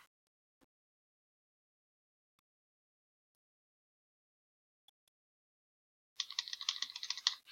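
After several seconds of near silence, a quick burst of keyboard typing clatters close by, rapid key presses running to the end.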